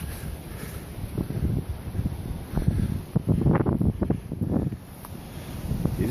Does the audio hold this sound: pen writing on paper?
no